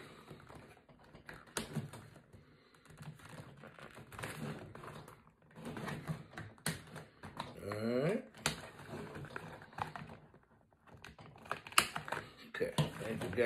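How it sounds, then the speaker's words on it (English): Scissors snip and crinkle through stiff plastic blister packaging to free a G.I. Joe Classified Shockwave action figure, with rapid irregular cuts and rustling up close, interrupted by a person speaking. "Let's get him cut out of here."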